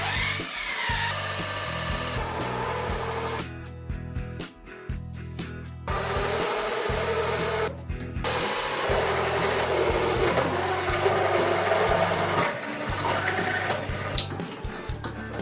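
A power tool grinds and rasps against steel while deburring a Crown Victoria car frame, a loud continuous abrasive whine with brief pauses and shifting pitch as the tool bites and eases off.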